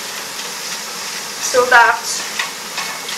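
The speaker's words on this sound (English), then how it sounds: "it's so that it doesn't stick, because I'm going to be dry frying this" Lentils dry frying in a hot pan for a lentil bolognese give a soft sizzle and scraping stir, briefly louder midway, while a person talks over it.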